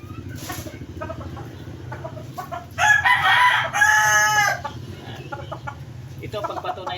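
Backyard breeding chickens cluck steadily while a rooster lets out one loud, drawn-out crow partway through, close by, with faint talking in the background.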